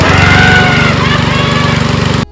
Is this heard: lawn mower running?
yes